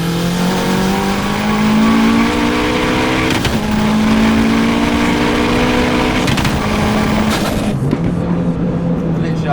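A 430hp turbocharged Mini Cooper cruises in sixth gear, its engine a loud, close, steady drone with brief shifts in pitch as throttle changes, under a constant rush of road noise.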